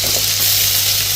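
Chopped ginger sizzles in hot butter as the start of a crab dish, a short, steady, close-up hiss of frying.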